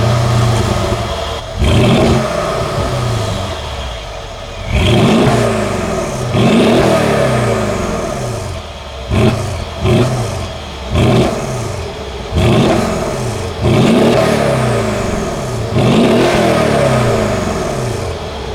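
A Mercedes AMG luxury SUV engine starts and then revs again and again, each loud, close blip rising sharply and falling back to idle in a steady rhythm, with no talking.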